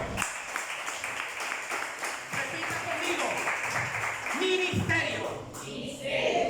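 A church congregation applauds during a Spanish-language sermon, a steady wash of clapping across the room with voices and shouts mixed in throughout.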